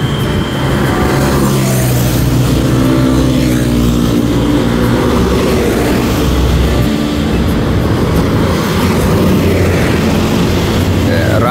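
A Dewi Sri intercity bus nicknamed Ramayana 2 pulling away from the Aroma restaurant stop in Cirebon, its diesel engine a loud, steady rumble close by, with people talking underneath.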